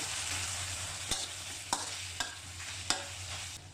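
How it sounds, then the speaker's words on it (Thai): Pork belly stir-fried with shrimp paste and kaffir lime leaves sizzles steadily in a hot pan, close and continuous, while a utensil scrapes and stirs in four distinct strokes at irregular intervals. "โอ้ใส่ใบมะกรูดลงไป ผัดพอเข้ากัน"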